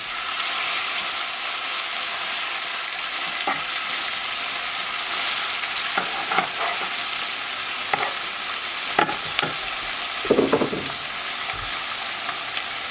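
Shrimp stir-fried with mushrooms and onions for surf and turf ramen gives a continuous loud sizzle, punctuated by scattered clinks and scrapes of the utensil against the pan.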